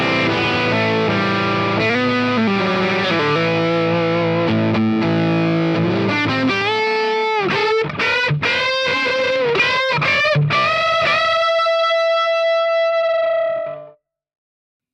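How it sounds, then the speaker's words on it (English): Distorted electric guitar played through an AMP RX Brownbox overdrive amp, with chugging riffs and chords, then choppy stabs and a final ringing note that sustains and stops abruptly, loud and alone. "let's get some dirty tones out of this amp."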